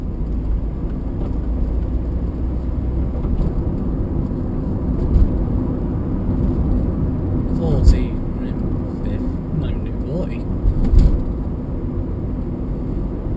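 A car cruising on the road at 60 mph in 5th gear gives a steady engine and road drone, with a few brief thumps and a person talking over it.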